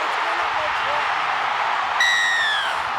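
A loud stadium crowd roars continuously at a rugby league match between the Kangaroos and Tonga in the Pacific Championships, a dense, sustained wall of cheering with whistles cutting through near the end.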